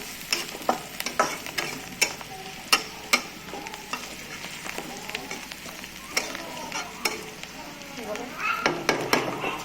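Masala being stirred in a frying pan for cabbage kachori, with sharp scraping clicks of the spoon against the pan over a low sizzle, repeating irregularly throughout.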